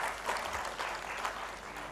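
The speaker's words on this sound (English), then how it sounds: "please let's have a round of applause for the panelists over here" An audience at a plenary session of the ICSE 2025 conference applauds panelists, a short burst of steady clapping from a seated crowd.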